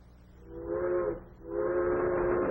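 A steam train whistle sounds in a radio drama, two sustained moaning blasts with a short dip between them, heard over a low rumble of the train running along.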